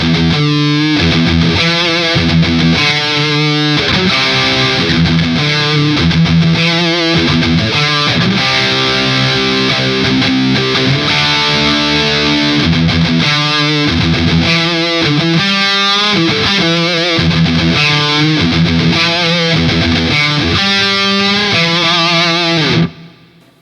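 Heavily distorted electric guitar through a tube amp, in standard tuning, plays chugging riffs and sustained chords, loud and continuous with no voice, ending abruptly.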